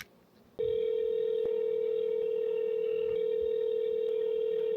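A telephone dial tone cuts in abruptly after a brief quiet start, a steady, loud, unbroken tone held to the end, heard while a realtor places a call, with no talk.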